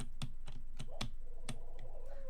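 A few soft, close clicks from a computer keyboard as the F1 key and others are pressed, quiet and irregularly spaced with no voices.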